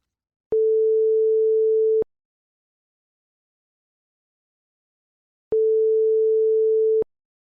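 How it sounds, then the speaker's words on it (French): A telephone call's ringing tone: two steady, clear beeps of about a second and a half each, separated by a long silent gap, with nothing else audible. "on va tout de suite lui passer un petit coup de fil"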